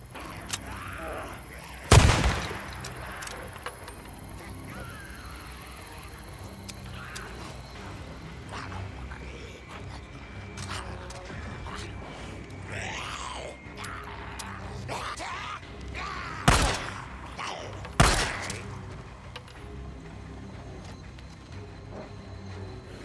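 A sniper rifle fires at a bear in Days Gone: three sharp, loud shots, one early and two close together later, each cracking out over quiet outdoor ambience and faint mechanical clicks.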